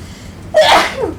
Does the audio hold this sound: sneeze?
yes